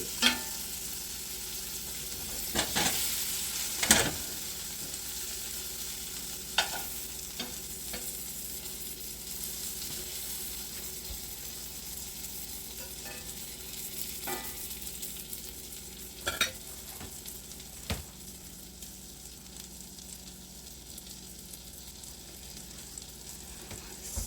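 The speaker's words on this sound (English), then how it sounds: "Frying pan cornbread." Steady sizzling of cornbread batter frying in a hot frying pan, with a few sharp clinks and scrapes of a utensil against the pan.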